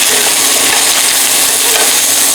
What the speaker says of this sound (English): You want to always listen for that sizzle.